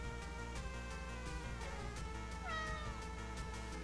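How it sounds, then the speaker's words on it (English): A cat meows several times, faint and slightly distant, in drawn-out cries with rising and falling pitch over a steady background hum. "I'm just hearing meow."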